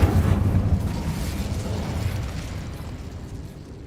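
Incendio fire spell cast in Hogwarts Legacy erupts as a loud, close burst that dies away into a fading crackling rumble, with no voices over it.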